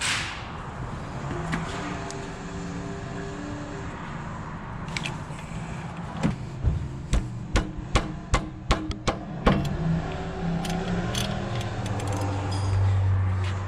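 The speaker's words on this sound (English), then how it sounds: "This right here is going to be a 17, so grab your 17 and go ahead and get it off." A 17 mm wrench loosening the brake caliper bracket bolts on a Toyota 4Runner, with a quick series of sharp metallic clicks and ratcheting taps in the middle, close and moderately loud over steady background hum.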